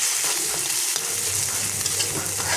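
Fish roe stirred while frying in a pan, giving a dense, continuous close-up sizzle with faint stirring movements throughout, and no one talking.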